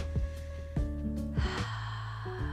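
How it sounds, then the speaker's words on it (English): Several deep breaths during a yoga and Pilates stretch sound close and breathy, with sharp inhales and slower exhales repeating about three times, and no talking. "Taking a few deep breaths here."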